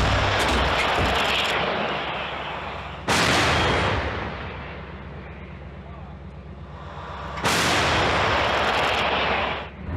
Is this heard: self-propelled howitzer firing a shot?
yes